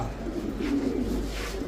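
Young pigeons coo, low soft burbling calls repeating a couple of times over a steady background hum, fairly close and unaccompanied by speech.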